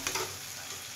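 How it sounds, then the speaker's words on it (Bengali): Taro and potato pieces frying in oil with onion, cumin, bay leaf and dried chili, a close, steady sizzle with a couple of brief stirring scrapes at the start. "পেঁয়াজ, জিরে, গোটা জিরে, তেজপাতা, শুকনো লঙ্কা ফোড়ন দিয়ে এই কচুগুলো ভাজছি, কচু আলু"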